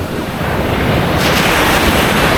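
Strong ocean waves break and wash up the white sand shore at Dinadiawan, Dipaculao, Aurora, Philippines, in a constant roar, close and loud, with gusts of wind noise over the surf.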